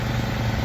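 Two small motors run together at a steady, noisy drone, close by, with a low rumbling hum and no breaks across the short stretch.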